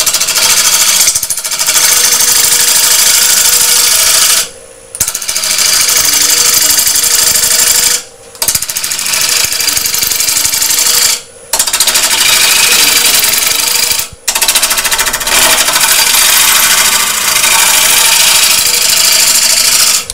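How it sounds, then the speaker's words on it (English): Wood gouge cutting a bowl on a lathe, a loud steady grinding roar of the spinning blank against the tool, broken by a few brief pauses as the cut lifts off. "I'm just going to use the bottom of the gouge."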